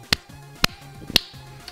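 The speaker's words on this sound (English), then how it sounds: "All the spiders clap along to the music." Three sharp claps from spiders in Undertale, spaced about half a second apart, crisp and close, with a soft low musical tone between them.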